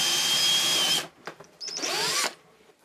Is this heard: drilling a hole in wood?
yes